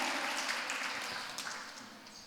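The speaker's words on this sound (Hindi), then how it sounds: "एक बार जोरदार तालियां बजा के" An audience at a Jain religious discourse gives a steady wash of applause, quite faint and distant, that slowly fades toward the end.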